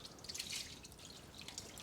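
Tap water runs and drips near a Mini Cooper D 1.6 diesel (2013) brake fluid reservoir being rinsed off, a steady close trickle with small splashes throughout and no talking.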